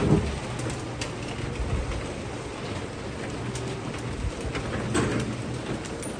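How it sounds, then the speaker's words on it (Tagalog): Heavy rain with large, widely spaced drops pours steadily during a strong storm, a dense constant hiss with no talking. "sobrang lakas po ng ulan"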